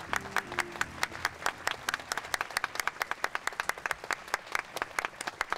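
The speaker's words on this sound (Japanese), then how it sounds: "拍手でお迎えください。" An audience claps at a stage greeting event for a Japanese film, a steady burst of crowd applause with rapid, even claps throughout.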